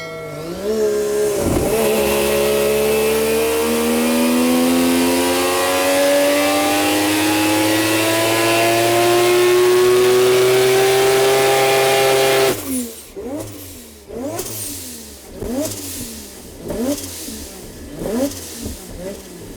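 A Mazda 20b three-rotor engine with a G45-1500 turbo on E85 screaming on a dyno, one long rising wide-open pull lasting about twelve seconds, then a sudden cut to rapid rough pops and bangs as it winds down.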